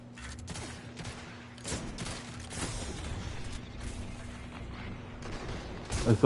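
Shotgun fire in the video game Destiny, scattered blasts and mechanical clatter under a steady hum, with a louder burst and a voice at the very end.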